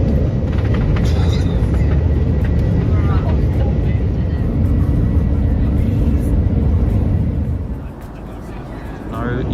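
Steady, loud jet engine roar fills an airliner cabin before a nine-hour flight, a constant deep rumble close around the listener that dips slightly near the end.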